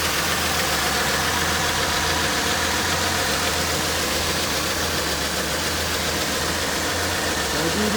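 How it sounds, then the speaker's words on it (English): A car engine at a local auction idles steadily with a slight misfire, a continuous mid-pitched rumble with faint uneven knocks running throughout, close and alone with no talking. "I do detect a slight bit of a misfire."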